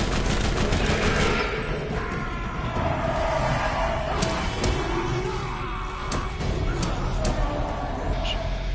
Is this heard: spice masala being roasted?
no